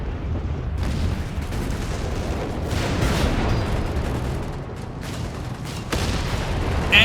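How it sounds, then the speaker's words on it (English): Anti-tank guns firing in the WWII strategy game Company of Heroes 3, a dense continuous barrage of heavy booms and blasts with sharp transient shots rising out of constant battle rumble. "Anti-tank guns, of course, doing immense amount of damage here."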